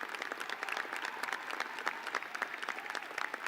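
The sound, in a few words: applause for graduating students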